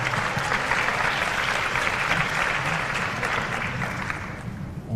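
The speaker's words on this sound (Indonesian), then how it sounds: "Sekali lagi beri tepuk tangan yang meriah" Sustained applause fills a hall at a gathering of Jakarta student council heads with Anies Baswedan. The clapping is dense and even for five seconds, then eases slightly near the end, with no voices over it.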